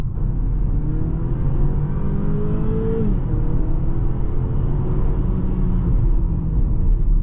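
A 2023 BMW X4 30i in Sport Plus mode accelerates onto a highway, its engine droning steadily with rising pitch, a brief dip as a gear shifts near the middle, then climbing again, loud and continuous with road rumble.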